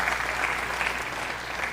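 Congregation at a church service giving a round of applause, a dense continuous patter of many hands clapping at a steady level.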